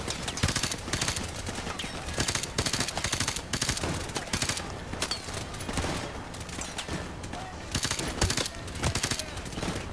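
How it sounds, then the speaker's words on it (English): Dense, loud automatic gunfire in Call of Duty Modern Warfare Remastered's campaign, with rapid overlapping bursts and shots filling the whole stretch without letup, layered over game effects and occasional voices. "Who is shooting at me?"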